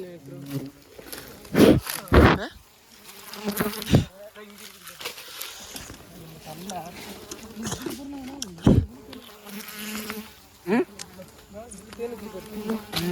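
Bees buzz in a dense, wavering drone around a wild mountain honeycomb, loud and close, while people talk over them.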